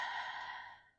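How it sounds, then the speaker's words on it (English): A person takes one slow, audible breath during a yoga session, a soft, airy sigh-like exhale that fades gradually to silence, close and quiet, with no talking. "Breathing in"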